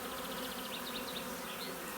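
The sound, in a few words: honeybees buzzing in clumps around the hive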